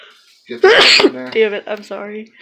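A person sneezes once, loud and close, at an outdoor crawfish boil, then speaks right after.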